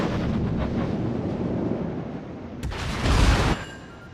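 Naval artillery rounds fired in the World of Warships naval combat game: a steady rumbling barrage of heavy gunfire, then a sharp crack followed by a louder, close booming salvo lasting about a second before fading back to a low roar.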